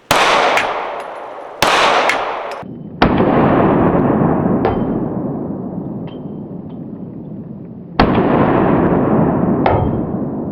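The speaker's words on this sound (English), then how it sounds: "Recoil is when you shoot your gun and it pops up on you." Handgun shots, apparently from a Canik pistol, fired at a shooting range: five loud, sharp cracks at irregular intervals, each followed by a long ringing decay. No one speaks.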